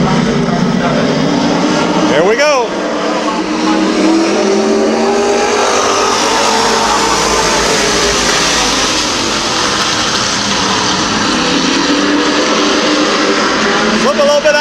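Race cars roar around the oval at Midvale Speedway in Ohio, a loud continuous engine drone with pass-by sweeps near the start and end, under steady excited race commentary.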